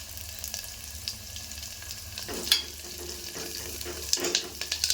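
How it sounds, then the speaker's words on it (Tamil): Small onions and curry leaves sauté in a pan for a village-style greens dish, a quiet steady sizzle with occasional spoon scrapes and clinks growing busier toward the end. "இது கொஞ்சம் பாதி அளவுக்கு வதங்கினா போதும், நல்லா வதங்க வேண்டியதில்லை."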